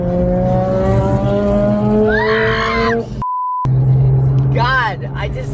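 A car cruises along a freeway with a steady low rumble of road and engine noise inside the cabin, while people talk loudly over it and a short beep cuts in partway through.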